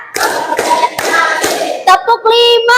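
A classroom of pupils claps hands together in unison on a teacher's count, about four sharp, evenly spaced claps close by, followed by a voice speaking.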